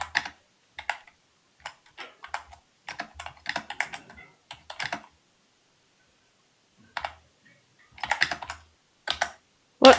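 Someone types on a computer keyboard in irregular bursts of crisp clicking keystrokes with short pauses, ending in a louder final tap, close and alone without talk.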